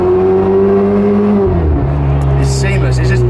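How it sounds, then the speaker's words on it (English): A Ferrari 488 Spider's engine drones loudly from inside the car, its pitch dropping in one smooth step during a seamless gear change, while people talk over it. "It's just the gear change is literally just a tone change."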